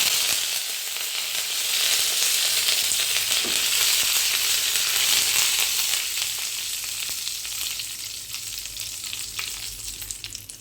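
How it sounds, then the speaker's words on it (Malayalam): Red chillies and curry leaves sizzling in hot oil with mustard and fenugreek seeds for a sambar tempering, a loud, dense, continuous crackling sizzle close up that slowly fades, with occasional faint stirring and no talking. "ഇട്ട് കൊടുക്കാം കുറച്ച് ചുമന്ന മുളക് അതുപോലെ തന്നെ കരിവേപ്പില"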